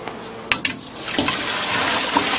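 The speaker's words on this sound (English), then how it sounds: "I'm going to take this over to the sink" Boiled pasta water pours into a kitchen sink as the pasta is strained, starting with a few sharp clanks and splashes before settling into a steady, close rushing gush.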